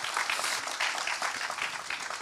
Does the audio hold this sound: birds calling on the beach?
no